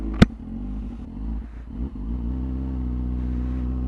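A Yamaha R6 motorcycle riding on the road gives a steady low engine hum with a sharp click near the start and a brief dip in the drone before it evens out again.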